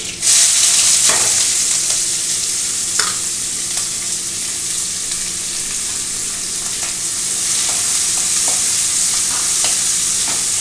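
Sliced onions with curry leaves frying in a pan for capsicum rice, a steady loud sizzle with occasional stirring scrapes, no voices.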